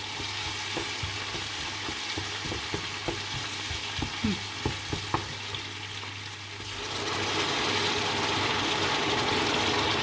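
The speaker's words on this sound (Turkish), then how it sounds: "Salçayı iyice bir kavurayım da" Tomato paste fries in a pan with a moderate sizzle and repeated scraping stirs. Toward the end a broader, steadier hiss takes over.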